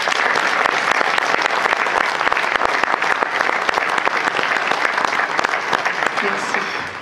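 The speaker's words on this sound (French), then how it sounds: "Ils méritent aussi nos applaudissements." Sustained audience applause fills a New Year's address hall, dense, even clapping holding steady for about seven seconds before easing slightly at the end.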